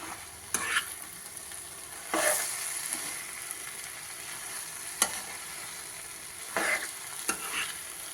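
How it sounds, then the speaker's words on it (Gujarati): Poha being stirred in a pan, with a soft steady sizzle under scattered scraping strokes of a spoon, four or five louder bursts spaced a second or two apart, close and fairly quiet. "આ રીતે હલાવી નાખશું."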